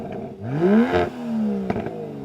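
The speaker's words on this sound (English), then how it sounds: "can we have a listen to the Aston Martin," An Aston Martin DBS engine revs up sharply, its pitch climbing and falling, then settles into a steady throaty drone with a brief extra blip near the end.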